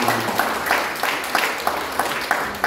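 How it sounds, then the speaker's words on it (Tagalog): Loud, continuous applause from a church congregation, a dense crackle of many hands with slight surges, filling the whole stretch with no voices on top. "Lahat ng nakikinig, magsabi ng amin at pumalakpak ng malakas sa amin"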